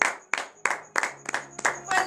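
A church congregation claps and applauds during a morning prayer service in Benin, with sharp rhythmic handclaps in bursts alongside a sustained tone and some voices.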